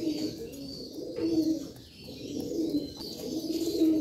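Domestic pigeons coo in soft, repeated throaty rounds close by, with a steady low murmur that swells and fades across the few seconds and no talk over it.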